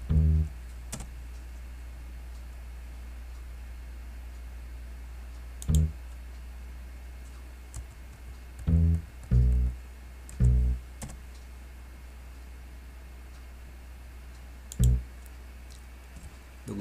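Sparse computer keyboard keystrokes and mouse clicks in short bursts, close and crisp, separated by long pauses over a quiet steady hum, with no talking.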